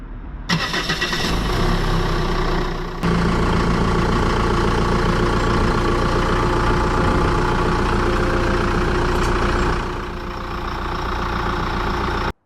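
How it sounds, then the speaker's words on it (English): The 2.8 CRD diesel engine of a 2007 Chrysler Grand Voyager starts and runs loudly up close as the vehicle reverses off ramps, a steady rumbling clatter that eases slightly near the end before cutting off. "let's get this vehicle backed off the ramps"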